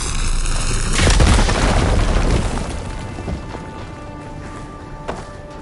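A fire gleam being blown up in the Horizon Forbidden West video game: a loud booming explosion about one second in, followed by a long rumbling decay and a few smaller pops and crackles afterward.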